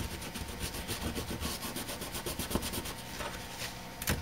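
Paper towel wiping softened pink thermal gum off a chipset heatsink, a steady rustling scrub with repeated rubbing strokes close by and no talk.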